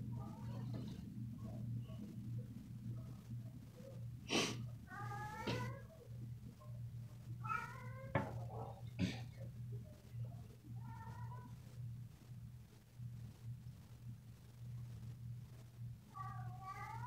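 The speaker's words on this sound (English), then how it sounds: "I think my cat wants to go outside." A house cat meows repeatedly in short drawn-out calls spaced every few seconds, fairly close, over a steady low hum, wanting to be let outside.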